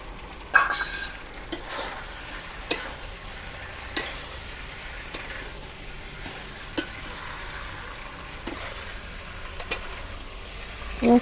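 Fried eggplant and slit green chillies going into a pan of simmering shukto, a Bengali vegetable dish, with a soft constant sizzle and repeated light stirring clinks and taps at an irregular rhythm, close by.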